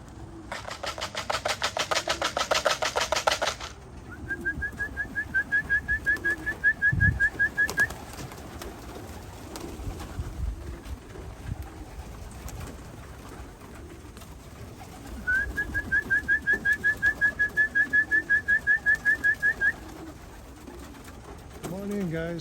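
Racing pigeons coming back to the loft after a training toss, with wings clapping loudly in a burst, then two long runs of rapid rhythmic wingbeats as the birds flutter in, soft cooing, and someone talking now and then.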